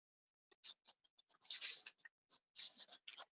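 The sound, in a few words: papers being shuffled around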